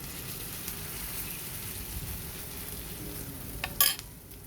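A sardine patty fries in a little oil, producing a steady, close crackling sizzle with a brief clatter of a utensil near the end.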